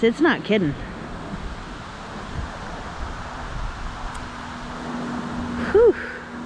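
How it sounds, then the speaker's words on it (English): Strong wind roars across the microphone as broadband rumble and rush, steady and loud through the whole stretch, while a person talks briefly at the start and again near the end. "This wind is serious,"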